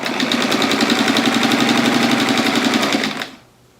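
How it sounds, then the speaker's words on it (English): A sewing machine runs steadily, stitching a quilt straight down a raw edge, its fast even mechanical rattle loud and close before it stops abruptly near the end. "Remember to just keep it sewing down straight down that raw edge until you get to your first seam."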